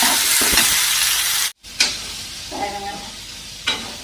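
Meal maker chunks are stirred with masala powders in a hot pan, making a bright sizzle with spoon scrapes that cuts out briefly, then returns as softer frying with occasional stirring knocks.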